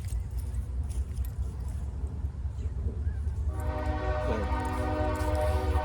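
A train rumbles steadily nearby, with a horn sounding in sustained harmonic tones during the second half over the low, continuous noise.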